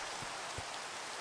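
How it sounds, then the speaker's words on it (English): Steady rain falling in the Minecraft video game, a constant even hiss of drops with a couple of faint low thumps and no speech. "it seems like it's been raining forever"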